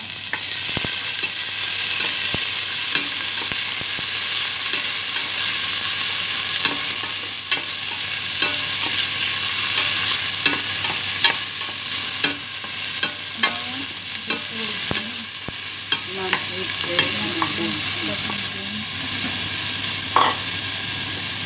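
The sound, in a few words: onions sautéing in a pan while being stirred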